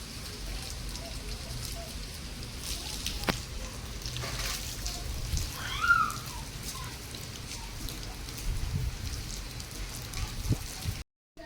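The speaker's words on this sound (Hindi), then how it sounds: "यहाँ पे बारिश हो रही है और इतना अच्छा लग रहा है" Steady rain falls outdoors with a continuous soft patter and occasional louder drops and splashes, with no speech over it.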